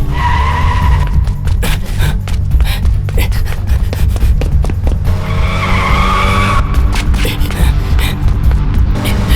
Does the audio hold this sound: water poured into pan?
no